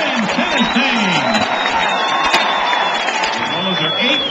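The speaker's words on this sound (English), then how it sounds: "Let's give a big round of applause to the 2009 SEC champion, Ole Miss Men Tennessee" Loud crowd at an Ole Miss ceremony cheering, whooping and applauding the 2009 SEC champion Ole Miss men's tennis team, a steady dense roar lasting throughout with voices mixed in.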